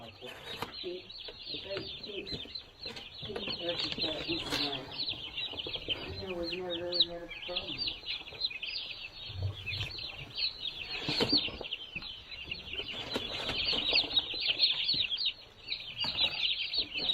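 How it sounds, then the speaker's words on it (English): Dense, continuous high-pitched peeping from many young turkeys in a brooder, loud and close, with a brief voice speaking partway through. "Hello there, little turkeys."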